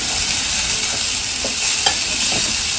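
Takla greens stir-fried in a pan make a loud, continuous sizzle, with a few soft scraping strokes of the spatula, heard close and without voices.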